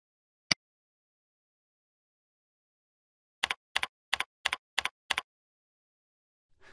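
Keys tapped on a computer keyboard while entering a password: one isolated click, then a quick run of six evenly spaced, crisp keystrokes close by, with silence between.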